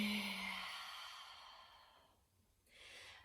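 A slow, audible exhale during seated chair yoga breathing, a soft breathy sigh that fades out gradually, followed by the start of a quiet inhale near the end.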